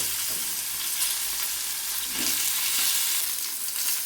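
Potatoes with turmeric and salt fry in hot oil with a steady, close hiss and crackle that stays even throughout, with no voices.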